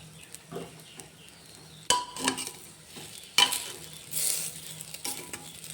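Dalia khichuri being stirred in a pot after salt is added: quiet, intermittent scraping and stirring, with a couple of louder clanks of the spoon against the pot and a faint sizzle underneath, no talking.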